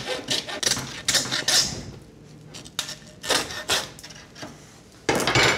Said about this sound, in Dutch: En natuurlijk een zaag nodig.